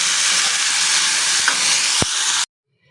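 Chopped tomato hitting hot oil in a pan for sesame tomato chutney: a loud, steady broadband sizzle and hiss close by that cuts off abruptly near the end.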